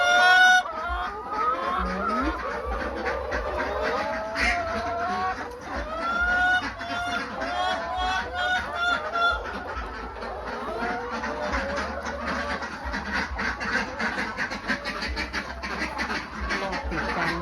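Young laying hens cluck continuously in a henhouse, a dense chorus of overlapping calls with occasional louder squawks, close and steady throughout.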